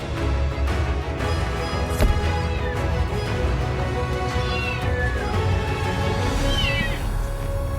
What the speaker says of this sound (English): A man heard some meows from inside the trailer